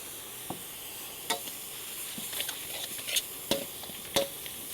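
Pork mince frying with Thai curry paste in a pan, a soft continuous sizzle broken by several sharp scraping and stirring clatters from a utensil, close and fairly quiet with no voices.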